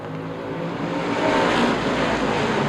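Street stock race cars lap Angola Motorsport Speedway in a CRA Street Stocks race, their engines a dense, continuous roar that swells slightly as the pack passes and carries on steadily throughout.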